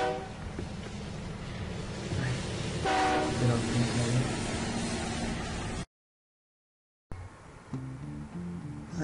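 A train arriving at a station in a video game, with steady rumbling rail noise and horn-like tones, briefly cut to silence before resuming, while someone talks over it.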